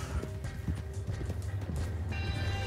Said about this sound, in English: these seems like Clydesdale-y sort of horses